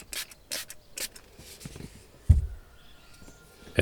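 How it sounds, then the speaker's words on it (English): A brush scrubs cleaning solution into the driver's seat of an Audi A6 C5, giving short, close rubbing strokes in an uneven rhythm with a few louder thumps and no talk. "I use the brush to agitate the dirt and grime accumulated over time"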